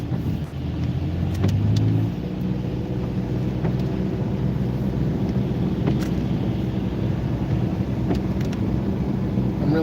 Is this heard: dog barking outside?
no